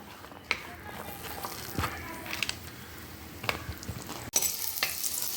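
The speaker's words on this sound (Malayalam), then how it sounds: "ആ ഉള്ളി ഒന്ന് വാടി വരട്ടെ കേട്ടോ" About ten chopped small onions soften in hot oil in a pan for a tomato fish curry, giving a low steady sizzle with a few sharp utensil clicks and stirs.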